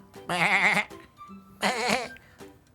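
A live goat gives two loud, wavering bleats close by, separated by a short pause with faint background sounds.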